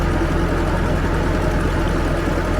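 A tractor's PTO spins steadily to drive a log splitter, a constant low mechanical drone with engine hum running evenly throughout without a break.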